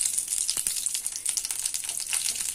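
Mustard seeds and split lentils fry in hot oil for a Kerala thoran, giving a steady close sizzle dense with sharp crackling pops throughout, without any voices.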